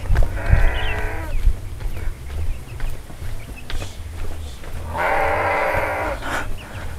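A sheep bleats near a village house in a rural area of rice fields, two loud, close, wavering calls a few seconds apart over quiet outdoor ambience.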